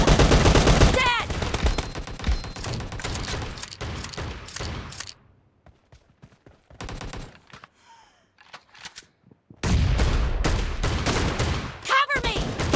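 Shotgun fire in the mobile game BGMI comes as dense, loud bursts of repeated gunshots, then a quieter stretch with scattered shots and game voice cues, before another heavy volley of firing.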